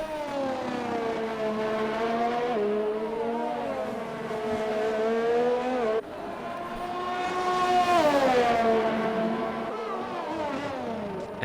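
Race cars on a track in an Xbox racing game at the Brazil round, engines whining and revving with rising and falling pitch, a continuous loud drone of several cars that shifts gear midway and swells again.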